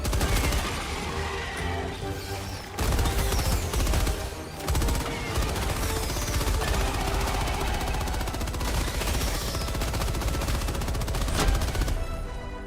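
Rapid, dense bursts of automatic gunfire shooting bugs in a video game, loud and continuous. Explosive cracks overlap with game sound effects, and there are brief pauses.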